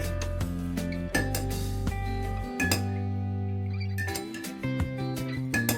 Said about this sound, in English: Just give it a mix, stir